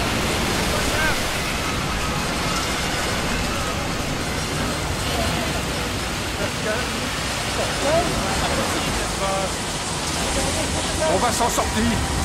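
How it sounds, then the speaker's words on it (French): Strong sea waves surge and crash through a storm with wind, a steady broadband roar of surf filling the scene while voices shout over it. "Les vagues sont trop fortes!"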